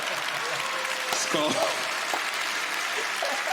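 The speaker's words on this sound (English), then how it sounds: "oh, you're clapping" A comedy show audience claps in a steady, wash-like stream, with someone talking over the applause.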